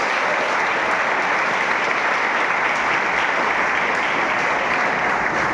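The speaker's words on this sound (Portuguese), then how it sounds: "Aplausos ao Senhor Jesus." A church congregation at a Christmas service gives a steady round of applause. The dense, even clapping carries on throughout, with no talking over it.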